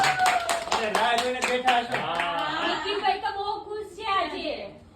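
A crowd claps in quick rhythmic bursts to welcome Suresh Prajapati, the sharp hand strikes loud at first then thinning out, while a voice carries on over them with light laughter.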